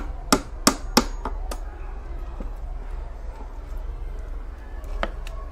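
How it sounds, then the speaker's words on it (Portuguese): A hammer striking tacks into a wooden furniture frame during chair caning upholstery work, with three sharp close blows in quick succession and a few lighter taps afterward. "Observe que na hora que eu estou batendo, eu estou segurando, mas quando eu vou quebrar, eu tiro, porque para você não martelar o dedo."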